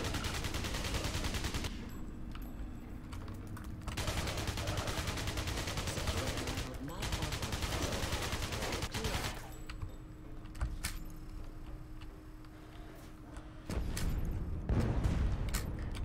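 Gunfire in the sci-fi shooter game Alien Breed Impact: long stretches of rapid automatic fire broken by short pauses, loud and continuous, with heavier booms near the end.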